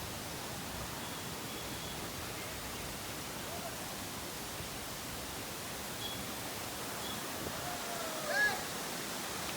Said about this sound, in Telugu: చూడండి వాటర్ ఫాల్స్ ఎంత బాగుంది